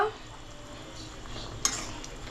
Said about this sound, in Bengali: এবার এটাকে ভালো করে নাড়িয়ে ভালো করে নাড়িয়ে নেব